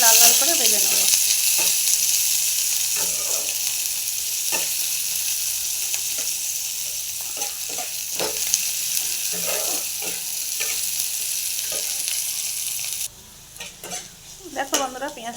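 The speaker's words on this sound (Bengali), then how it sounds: "এবার এই তেলের মধ্যে আমি পেঁয়াজ দিয়ে দেবো। পেঁয়াজটা দিয়ে আমি লাল লাল করে ভেজে নেব।" Onions frying in hot oil left over from lentil fritters give a loud, continuous close sizzle, broken by irregular spatula clicks and scrapes against the pan. The sound drops sharply near the end.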